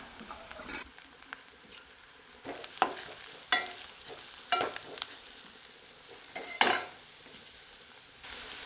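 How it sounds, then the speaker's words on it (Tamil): Vegetables sizzle softly in a pan while a utensil stirs and scrapes against it with occasional clinks, close and fairly quiet. "இதையும் சேர்த்து வதக்கி விட்டுக்கலாம்"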